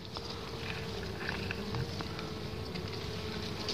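Honey bees buzz at a kept hive during beekeeping work while smoke is used, giving a continuous dense drone that holds steady and fairly close throughout, with faint scattered taps and no voices.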